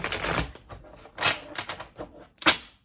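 Tarot cards are shuffled in several quick riffling bursts with short pauses between them, close and crisp.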